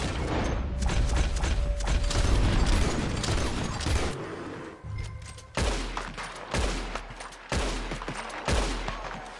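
Gunfire in the video game Red Dead Redemption 2, loud close bursts of rapid shots followed by several separate heavy blasts with brief gaps between them, with mechanical clatter and no talking.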